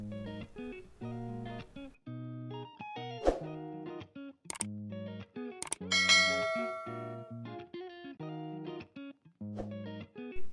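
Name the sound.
bell ding sound effect for bell icon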